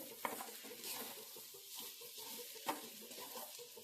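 Mango rice (chitranna) is mixed by hand in a pot after salt is added. Soft, quiet stirring and shuffling sit over a faint sizzle, with two small knocks against the pot.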